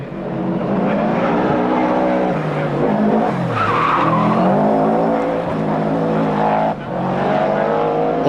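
Colin McRae's rally car on a street stage at the 1991 Manx International Rally, skidding with a long, loud tyre squeal over a roaring, revving engine, close and sustained across the whole stretch.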